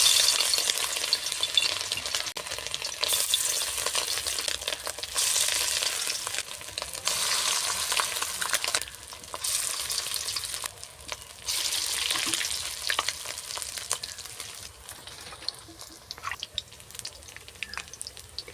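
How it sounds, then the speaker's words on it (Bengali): Fish roe fritters sizzle and crackle in hot oil in a kadai in a village kitchen, a loud, continuous frying hiss that swells and dips, with occasional stirring and clinks. "কড়াইতে তেল গরম হয়ে গেছে, এবার মাছের ডিমের বড়াগুলো দিয়ে দেব।"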